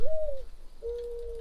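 A dove in a modded video game gives two soft cooing calls in quick succession, the second longer and steadier, clear and alone over a low hum.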